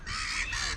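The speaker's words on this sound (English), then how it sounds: "Pigeon, seagull." A seagull or pigeon calls on a murky beach at Hunstanton, Norfolk, giving one loud, harsh, drawn-out cry that dips briefly in the middle, heard close and alone against faint wind.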